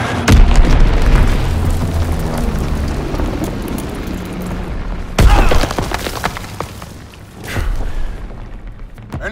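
Incoming enemy mortar fire in a video game: loud booming explosions with sharp bursts at intervals, one heavy impact midway and another later, over a constant rumbling battlefield din.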